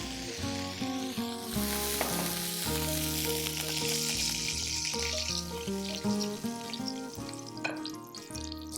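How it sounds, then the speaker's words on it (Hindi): A splash of water hits hot ghee and spices in a pan, setting off a loud, continuous sizzle heard close up under background music. "मैंने पानी का छींटा मारा"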